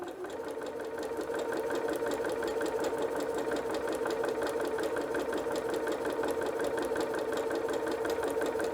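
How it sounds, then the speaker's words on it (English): A sewing machine stitches two quilt squares together, its motor running at a fast, steady rhythmic whir close by after a brief start, continuing evenly throughout without talk. "I'm just simply going to sew the first 2 squares together."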